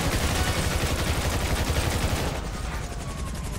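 Dense automatic gunfire from a firefight in the video game GTA V Online, loud and continuous with rapid overlapping shots that thin slightly toward the end.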